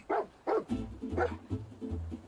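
A dog barks in the Fallout 4 video game, several loud close barks in an uneven rhythm, with a lower rumbling game sound between them and no talking.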